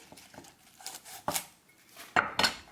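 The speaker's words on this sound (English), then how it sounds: "So basically I just come in with a knife right at the base," A knife cuts through the base of a lettuce head, giving a few sharp, close clicks and crunchy taps on a board spread unevenly over a couple of seconds.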